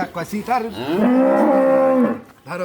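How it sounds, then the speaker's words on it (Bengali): A strong dairy cow lets out a loud, close, drawn-out moo lasting about a second, framed by shorter low grunting calls before and after, with no talk. "অনেক শক্তিশালী একটা গাভী দর্শক আপনারা দেখতে পাচ্ছেন"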